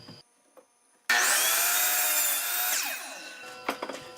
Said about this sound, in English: This is my DeWalt chop saw.